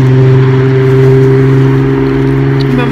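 Cars pass along an avenue in Japan on a cold day, a loud, close, steady engine drone with strong low hum filling the whole stretch, no talking.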